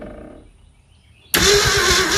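A 1966 Ford Galaxie 500 barn-find engine, turned over with the key, stays faint and quiet at first before abruptly bursting into a loud, sustained roar.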